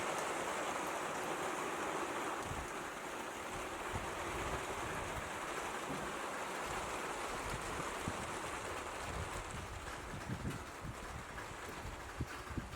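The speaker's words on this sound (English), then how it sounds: "Halfway through doing the roof and the rain came down." Steady rain hisses down over an off-grid cabin with a half-finished roof, with scattered heavier drops and patters landing nearby, continuous and fairly loud throughout.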